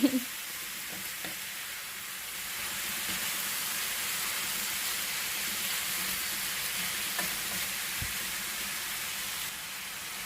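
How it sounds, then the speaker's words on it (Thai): Steady sizzling of tomato sauce for chicken salona stir-frying in a small pan, a continuous hiss with occasional soft scrapes of stirring. "เราจะผัดให้เขาเข้ากันหน่อยค่ะ"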